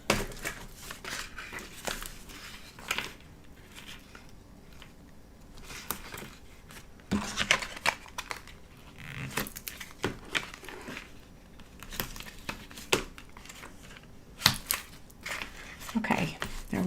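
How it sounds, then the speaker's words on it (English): Packing tape is torn and pressed onto cardboard book box flaps, giving quiet scattered rips, crinkles and taps in short irregular bursts up close, with faint talk in between. "So I'm going to add tear and tape to those."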